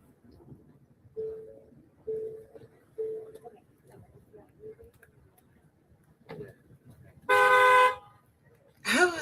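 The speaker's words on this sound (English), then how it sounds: "Who is honking in the world?" Two loud car horn blasts, one long and one short, sound near the end of a news broadcast from a neighborhood where a pickup truck engine was revved, after a stretch of quiet talk and faint background noise.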